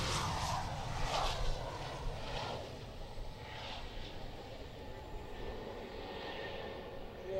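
Engines of the Avro Vulcan XH558 bomber at Waddington, heard as a loud, continuous broadband jet roar that swells and eases slightly without stopping.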